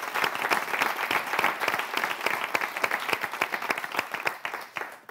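A TV studio audience applauds the guests on a French game show, dense and steady clapping from many hands close by that tapers off near the end.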